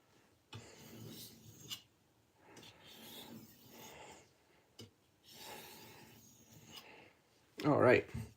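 A kitchen knife is sharpened with several rhythmic rasping strokes in separate bursts, quiet and close, and a louder final scrape near the end.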